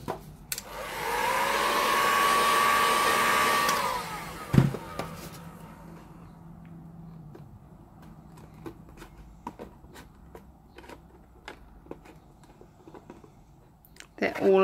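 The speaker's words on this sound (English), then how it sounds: "doing it with the heat gun, you can just put the heat where you need it" A heat gun blows a steady, loud rushing whoosh for about four seconds while warming a vinyl record, then shuts off, leaving scattered clicks and handling noises.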